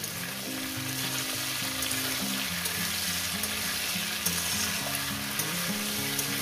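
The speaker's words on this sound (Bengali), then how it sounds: "কাঁচা লঙ্কাগুলো, ঢেঁড়সগুলো একসঙ্গে একটু ভেজে নেব।" Okra and green chillies frying in a pan, a steady close sizzle with occasional stirring, heard alone without talk.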